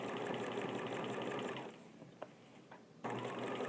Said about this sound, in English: When I travel back, I stitch in the seam line between the pattern pieces.